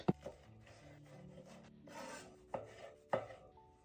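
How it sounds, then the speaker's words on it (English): A knife cuts vegetables for pico de gallo on a board, a few sharp close chops with quiet rubbing in between, soft and without talking. "now let's cut this pico up"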